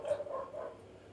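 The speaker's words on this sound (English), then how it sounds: "bit of bark in there too" A dog barks a few times at low volume, a short run of yips in the background of an indoor tabletop flick football game session.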